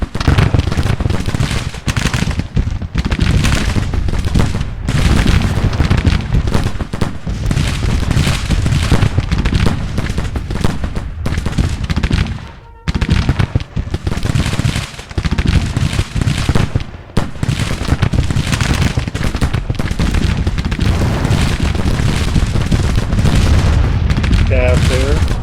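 Civil War musket volleys and artillery fire in the strategy game Grand Tactician rage almost nonstop, with dense crackling rifle fire and heavy booms layered together, dropping off briefly once before resuming at full intensity.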